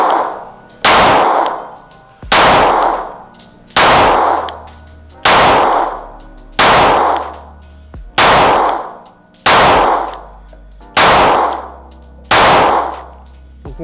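A Glock 43X 9mm pistol fires nine evenly spaced, loud, sharp shots about every 1.5 seconds, each crack followed by a short ringing decay, with no talking between them.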